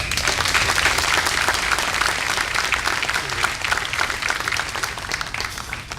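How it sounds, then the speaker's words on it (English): Crowd applauding at an outdoor Memorial Day ceremony in West Orange, New Jersey, honoring war veterans; dense, steady clapping from many people holds evenly for six seconds. "another round of applause for them all."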